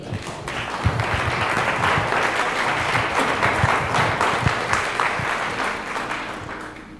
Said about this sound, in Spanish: Yo le daría un aplauso al Señor.